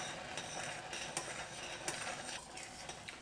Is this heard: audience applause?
no